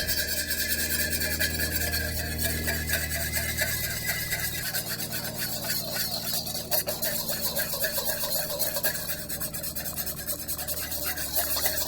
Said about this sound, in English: I'm going to slowly sift in some flour, all-purpose flour, and whisk it